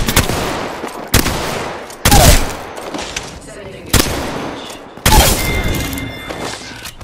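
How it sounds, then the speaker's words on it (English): Incoming gunfire in a shooter video game: loud, sharp shots strike at roughly one-second intervals, each followed by a short rumbling tail. "I'm taking fire."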